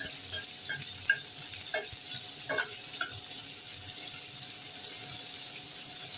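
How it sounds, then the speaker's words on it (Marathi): Vertically sliced onion frying in oil with cinnamon, cloves, peppercorns and asafoetida for masale bhat, a steady close sizzle with a few faint stirring clicks and no talk. "आता इथे कांदा गुलाबीसर फ्राय झालेला आहे"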